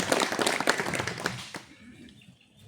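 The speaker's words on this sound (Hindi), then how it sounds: "उनके लिए भी हम लोग जोरदार तालियों से उनको स्वागत करेंगे" Hall audience welcoming guests at a PESA Act talk with a burst of applause, loud at first and then tapering off into quieter room noise over a few seconds.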